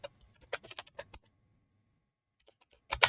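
Keys clatter on a computer keyboard while entering data in Excel: a quick close burst of clicks, a pause of about a second, then a few more taps ending in a louder cluster, with no talking.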